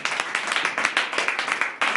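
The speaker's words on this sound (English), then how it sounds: "give the Lord a mighty clap of it" A church congregation at a Ghanaian sermon claps steadily and vigorously, dense overlapping hand claps forming continuous applause with no voices on top.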